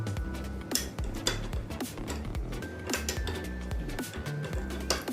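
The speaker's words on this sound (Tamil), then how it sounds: "இஞ்சி சேர்த்து நல்லா கலந்துக்கோங்க." Crushed ginger being stirred into panakam, a sweet drink, inside a vessel, with a spoon clinking and scraping against the sides in quick, uneven taps, close and fairly soft.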